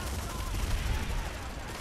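Rapid gunfire from Planetside 2 on PS4, a dense, continuous burst of loud shots with a booming low end, filling the whole moment with no clear gaps between reports.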